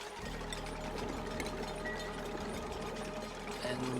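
A pump running in the Oxygen Not Included video game gives a steady mechanical hum with a fast, buzzing pulse, constant and fairly loud throughout with no talking over it.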